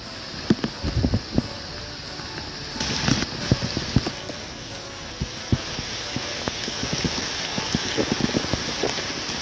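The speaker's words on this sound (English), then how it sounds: "It was pretty much a downpour for about an hour." Heavy rain pours steadily on a rocky Appalachian Trail section in Pennsylvania during a thunderstorm, a constant wash of noise broken by close, sharp drops and knocks, with a brief louder gust partway through.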